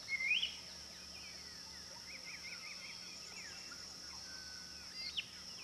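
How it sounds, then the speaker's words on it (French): Birds call in a marsh, with a brief squawk at the start, a quick run of chirps in the middle and another call near the end, all faint over a soft, steady wash of rustling water. "Le bruissement de l'eau se mêle au froissement des becs d'oiseaux."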